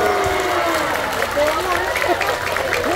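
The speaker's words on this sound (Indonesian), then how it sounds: "Berikan tepuk tangan, boleh." A religious lecture audience at a large Islamic study gathering in Taiwan breaks into a short burst of applause and crowd noise, dense and close, with voices mixed in.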